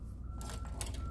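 A truck's reversing alarm beeps in a parking lot, a few faint, evenly spaced electronic tones over low background rumble.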